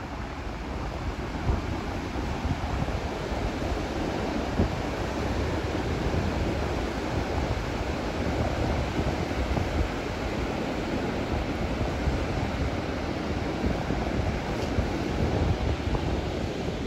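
Sea waves at Le Touquet beach in France roar in a steady, loud wash of surf mixed with wind buffeting the microphone, continuous throughout with no voices.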